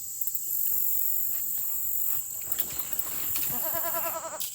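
Goats in a fenced pen on a North Georgia garden plot give a few short bleats against a faint steady insect hum, with a quick wavering bleat near the end.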